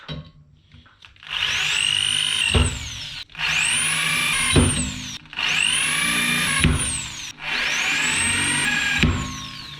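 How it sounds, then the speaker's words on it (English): Four bursts of close drilling, each rising in pitch as the motor spins up, biting into material with grinding texture before cutting off. "Let's drill some holes."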